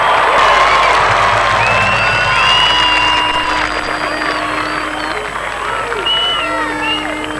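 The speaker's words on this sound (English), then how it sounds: "Ladies and gentlemen, please give a nice, huge, warm round of applause" Crowd at a Te Matatini kapa haka festival in 2000 cheering and clapping loudly, with whoops, shouts and whistles rising over the applause, heard on a worn VHS recording with an announcer's voice mixed in.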